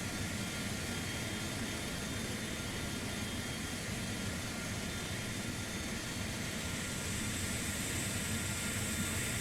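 Steady, loud jet engine roar from a TAP Portugal Airbus A330-200 airliner in Microsoft Flight Simulator 2024, a continuous broadband rush holding near-constant level throughout with a slight rise toward the end, no voices.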